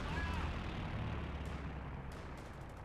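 Strafing run by an aircraft over a base in Company of Heroes 2, a dense rumble of gunfire and explosions that stays steady and loud throughout without a break.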